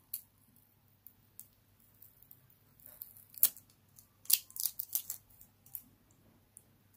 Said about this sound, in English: then you're going to gently remove the tape